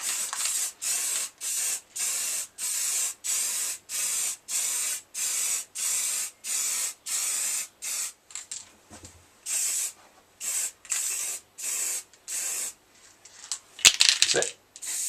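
Short bursts of spray paint hiss out in a steady run of about a dozen even passes while a heavier third coat goes on in a garage, followed by a few uneven bursts and a brief clatter near the end.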